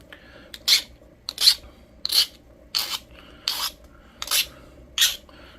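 Pressure flaking a flint Frisco arrowhead point to sharpen its edge: seven short, close, rasping scrapes come at a steady pace, each about half a second, with quiet pauses between.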